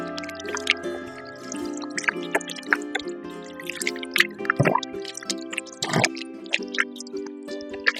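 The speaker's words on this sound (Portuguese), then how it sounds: "a gente vai ter que lavar a mão nesse meio tempo" Hands being washed under running water partway through making homemade pão de queijo, with splashing, dripping and rubbing over a steady tap flow, close and fairly loud, no talking.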